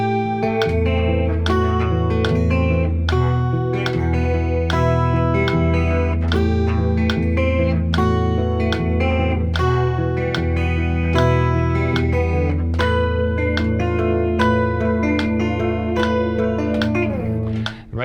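Slow fingerpicked guitar plays part of a song at around 70 beats per minute, with steady bass notes under ringing plucked strings, close and continuous with no talking.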